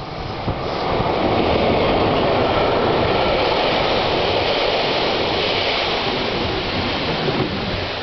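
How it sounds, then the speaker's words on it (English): A red train rushes past near Assmannshausen in a loud, continuous roar that swells quickly and holds steady for several seconds, close by and drowning out everything else. "And here comes the train."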